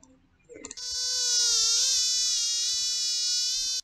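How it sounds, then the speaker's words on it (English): A mosquito buzzing sound effect, uploaded into a Scratch game project, rises from near silence into a steady, loud, high-pitched whine that drones on unbroken for about three seconds. "You wanna have mosquito buzzing."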